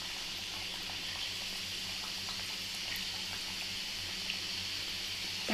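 Pieces of kalakala dough for a Deepavali snack deep-fry in hot oil, giving a steady, even bubbling sizzle close by, with no one speaking.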